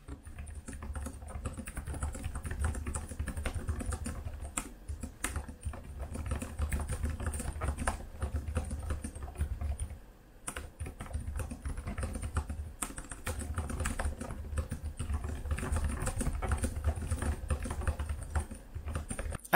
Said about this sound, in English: Have a listen to the sound of the Ideapad 5 keyboard.